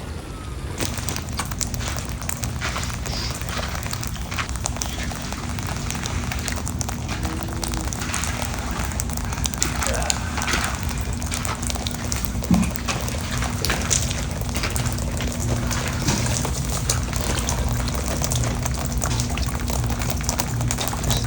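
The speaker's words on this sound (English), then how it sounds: "torrential rain comes out of nowhere" Sudden torrential tropical rain pours down in Florida on a site where concrete is being stamped. It makes a dense, steady roaring hiss without pause, with one sharper knock partway through.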